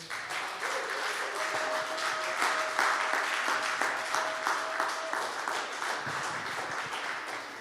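A church congregation claps together in sustained, steady applause, dense and fairly close, with a few voices calling out over it.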